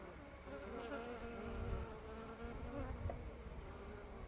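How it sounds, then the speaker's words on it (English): Bees buzzing among flowering perennial garden plants such as lavender, a steady faint drone of many insects close around, with no talking over it. "Wow, there's bees everywhere."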